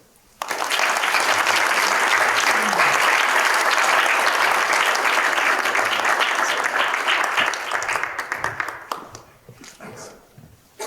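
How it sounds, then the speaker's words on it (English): An audience at a university grad event breaks into applause for a speaker, loud dense clapping that starts abruptly, holds steady, then thins and trails off near the end. "we applaud you for your strength and courage"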